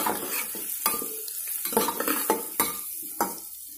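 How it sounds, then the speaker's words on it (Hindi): Onions and garlic paste stirred in a hot pan for aloo katli, with steady frying sizzle under repeated scraping strokes of a spoon against the pan, close up and moderately loud. "हल्का से चला लेंगे।"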